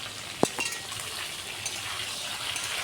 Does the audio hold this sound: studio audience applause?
no